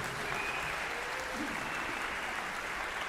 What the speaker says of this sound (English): hear real people with real applause in a real life situation